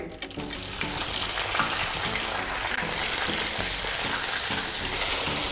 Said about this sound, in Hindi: और अब हम इसमें प्याज डाल देंगे